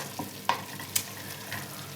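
Oil sizzles steadily in a pan with a couple of sharp crackles and pops as something is stirred in, close and fairly quiet.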